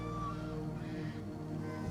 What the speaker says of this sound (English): Oh hey, a cat!